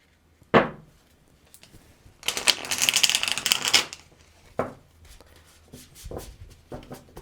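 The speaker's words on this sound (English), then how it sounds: "Now let me show you the riffle shuffle too." A tarot card deck is riffle shuffled, giving a dense, bright fluttering burst of cards for about a second and a half, with sharp taps and card knocks before and after, close and clear.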